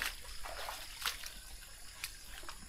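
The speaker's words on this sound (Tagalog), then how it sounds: "Ilog dito." River water trickles and splashes faintly in the distance, a steady soft wash with a few brief splashy bursts, no voices.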